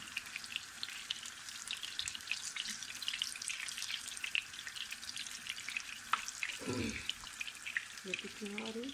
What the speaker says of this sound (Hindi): फ्राई पैन हमारा बड़ा है, इसके ऊपर और टिक्कियाँ डालते हैं।